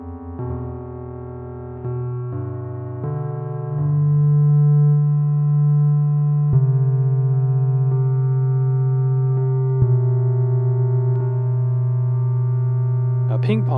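Ambient pad synth from Ableton Live Wavetable with a slow ping pong delay, sustained smooth tones that shift pitch in stepped changes and hold steadily, with soft echoing repeats and a brief rustle at the end.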